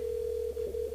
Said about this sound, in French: Ah, le téléphone il sonne, c'est bon.